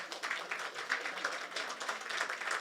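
An audience claps at an awards ceremony in Dubai, a steady spread of many hands in fairly quiet, slightly distant applause that carries on without a break.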